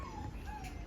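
A dog on a farm gives one short, high whimpering whine, close and brief.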